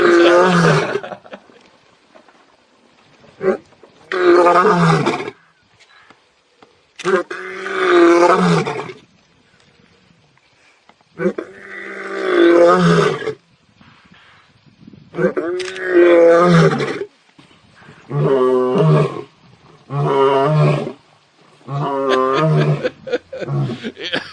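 A lion roars in a series of loud, deep, drawn-out bellows, about eight separate bursts spaced by short silences, each swelling and fading, close and alone with no talk.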